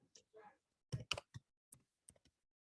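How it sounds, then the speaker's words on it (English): Keys on a computer keyboard tapped in short, irregular bursts, sharp and close against near-silence, about a dozen distinct clicks spread over a few seconds. "so I will type in the column chat"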